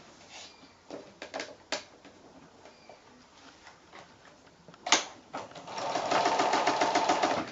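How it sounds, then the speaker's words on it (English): A sewing machine starts and stops in short bursts, then runs steadily with a fast mechanical whir at the end, alone and fairly close. "your sewing machine should fit in there fine. You're just doing the 1/4 inch seam allowance along there"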